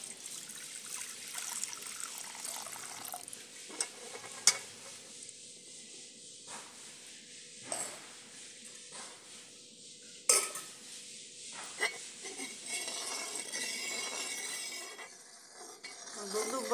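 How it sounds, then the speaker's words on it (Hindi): A pot of milk for rasmalai boils and bubbles with a constant hiss and occasional soft pops and clinks of a utensil, close by with no talking. "दुध उबलना शुरू हो गया,"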